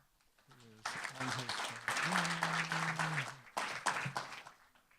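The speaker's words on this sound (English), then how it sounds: "Please join us in a round of applause for Dr. Mitchell Katz" Applause at the LA County Leadership Conference welcoming Dr. Mitchell Katz, bursts of clapping swelling up loudly after a quiet start, with voices talking over the clapping.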